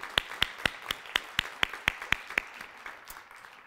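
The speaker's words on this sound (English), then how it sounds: "I'd like for us all to just give them a round of applause right now" Sparse, evenly spaced claps at a ministry breakfast program, about ten sharp close hits in a steady rhythm that then trail off into faint scattered taps.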